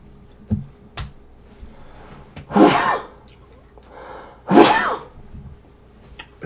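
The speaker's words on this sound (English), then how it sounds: "going to sneeze." Two sharp human sneezes about two seconds apart, close and fairly loud, with small breathy sounds and faint clicks in between in a quiet indoor room.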